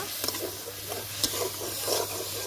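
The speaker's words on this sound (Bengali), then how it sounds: "মশলা খুব ভালোভাবে কষিয়ে নেব" Spice masala with turmeric, salt, dried chilli, cumin, coriander and a splash of water being sautéed in a pan for a chicken-filled pitha, soft continuous sizzle with repeated spatula stirring scrapes, close and fairly quiet.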